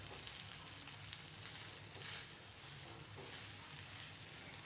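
Ragi rava uttapam sizzling on a hot pan over medium to high flame, a steady close hiss with slight swells and no talking.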